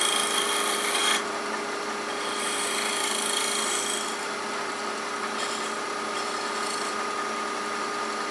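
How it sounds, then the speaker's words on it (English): Round nose scraper taking light cuts across end grain on a wood lathe, a steady broadband rasping scrape that runs continuously at close range, shifting slightly in intensity, with no talking. "with this sharp round nose scraper. It'll be fine on end grain."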